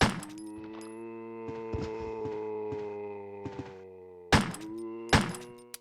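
Gunshots from the 1996 PS1 survival horror game Resident Evil 1, playing as Jill: a few sharp, loud reports at irregular intervals, with the last two close together, over a steady droning in-game music bed.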